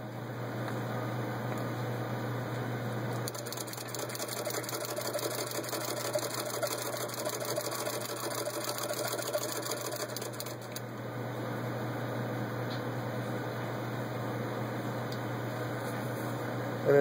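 A vintage Singer sewing machine fitted with a pinker attachment cuts through denim, its steady mechanical whir and rapid chattering stitch running continuously and fairly loud, picking up slightly in intensity midway.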